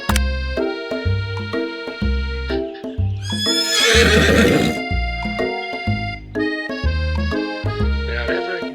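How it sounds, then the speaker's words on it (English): A loud horse whinny bursts out midway through bouncy, rhythmic music in a KFC dating sim video game, with hoof-like clip-clop beats running under the music before and after the neigh. "Of course he rides on horseback."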